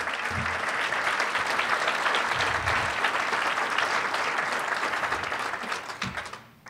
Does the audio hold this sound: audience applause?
yes